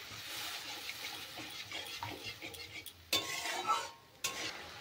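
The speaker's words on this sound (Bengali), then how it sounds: "এখন আমি দিয়ে দেব অল্প পরিমাণে একটু জল" Water poured into a pan of simmering spinach and fish curry, a brief splashing burst followed by soft stirring and utensil clinks against the pan, close and moderately loud.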